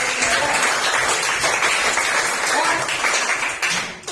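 Steady, dense applause from a classroom audience for a second student, sustained and fairly loud throughout with a slight dip near the end.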